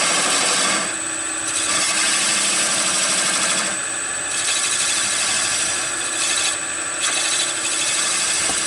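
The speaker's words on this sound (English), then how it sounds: "pick one that's straight, and do a scraping cut with it" A woodturning lathe runs as a straight-edged tool makes a scraping cut on spinning wood for a baseball bat, a loud, continuous rasping hiss over the motor's hum, briefly easing off a few times.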